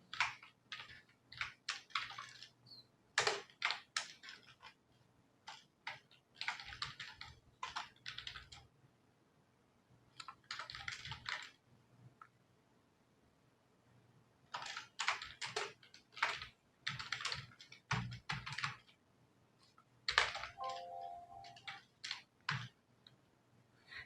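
Fingers type on a computer keyboard while entering data into accounting software, producing quiet clusters of quick key clicks separated by short pauses.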